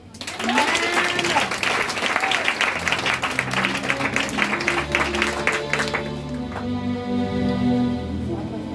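A church congregation applauds during a French-language sermon: loud, dense clapping that swells quickly and holds for about five seconds, then thins out as sustained musical tones carry on beneath.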